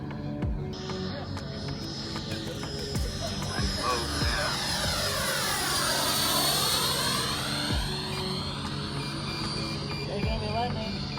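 A radio-controlled A6 Intruder model jet flying overhead, a steady whining hum whose pitch sweeps down and back up as it passes, with faint background noise and no clear talk.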